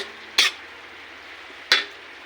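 Onion and garlic sautéing in a pan give a steady soft sizzle, broken by two sharp, brief scrapes of stirring about a second apart, close by.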